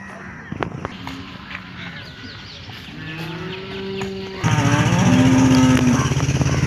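Cattle at the Loni cow market lowing loudly and repeatedly, with long drawn-out moos rising over a busy crowd, a passing motorcycle engine and nearby voices.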